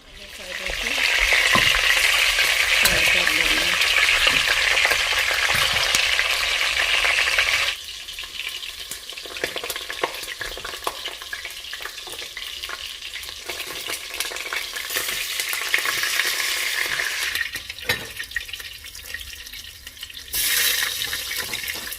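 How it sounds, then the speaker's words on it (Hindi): Meat shank sears in a hot pan for Afghan Kabuli pulao, giving a loud, steady sizzle that drops to a softer, crackling fry partway through and then rises again near the end, with no talking. "ये देखिएगा अच्छी तरह से इसे दोनों साइड से फ्राई कर लेंगे हम।"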